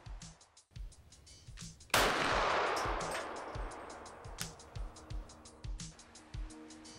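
A Sig P320 XFIVE Legion pistol fires at 25 yards outdoors: one sharp, loud report near the start trails off in a long ringing decay, with soft rhythmic low thumps running underneath.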